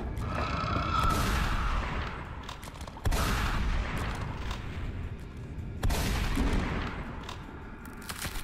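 Gunfire in the Doom mod Venturous, a video game: dense, continuous bursts of shooting with heavy booming hits, restarting sharply at a couple of points and staying loud throughout.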